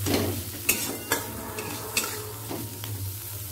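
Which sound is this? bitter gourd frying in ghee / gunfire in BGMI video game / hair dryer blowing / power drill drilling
bitter gourd frying in ghee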